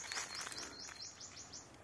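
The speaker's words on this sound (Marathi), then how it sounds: "बघा पक्ष्यांचा आवाज इतका मस्त मजा येतो" Birds chirping faintly in a quiet outdoor setting, a steady run of about seven short, bright chirps in quick succession with no voices.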